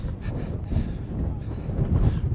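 Strong, steady wind buffets the microphone on an exposed, coverless mountaintop at the abandoned Buzludzha Monument in Bulgaria, a low rumbling roar with gusts swelling and easing throughout.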